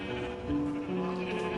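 Sheep bleat in Minecraft, a steady, moderately loud wavering cry that runs through the whole short stretch with no talking.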